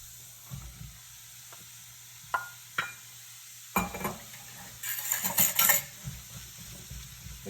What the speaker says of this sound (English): We're going to add our carrots in.